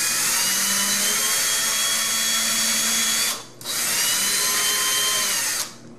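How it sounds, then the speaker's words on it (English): Power drill boring into a soft wood door, a loud steady whine running continuously, briefly dropping out for a moment midway and again near the end as the bit is eased off. "let the drill bit do the work. Don't push hard. This is soft wood."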